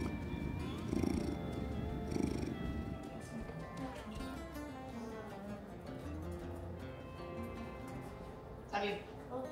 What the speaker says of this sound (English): I don't know if you can hear him purring.